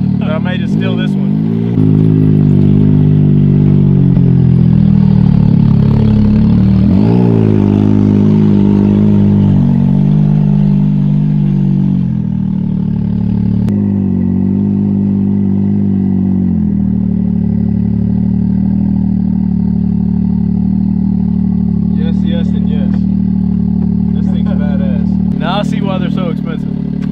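A Can-Am X3 side-by-side engine held at a loud, steady drone with rising and falling revs while the tires spin, close and continuous throughout, with brief higher rattles near the end.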